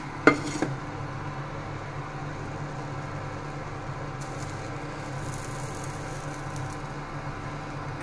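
Bread fries in ghee in a pan with a soft, steady sizzle, opened by a brief clatter of utensils near the start, and no one talks.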